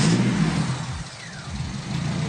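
Honda DC5 Type R engine starting via a push start button, a loud close cranking catch that settles into a steady idle with a slight dip and rise in revs.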